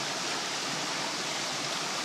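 Water rushing steadily from a bled valve port on a farm water system, a loud, even hiss of flow throughout with no talk.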